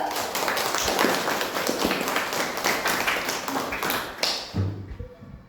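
A class of pupils claps in a classroom, a busy spread of quick hand claps and taps that carries on steadily before tapering off near the end.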